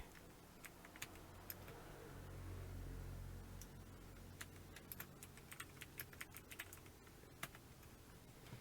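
Someone types on a computer keyboard in a quiet room, a sparse series of soft, distinct key clicks, close but faint, with a low hum underneath and no speech.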